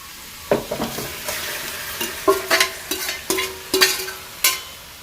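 Chicken pieces dropped into a hot pan with browning coconut give a close sizzle, broken by a series of sharp stirring and scraping clacks at uneven intervals.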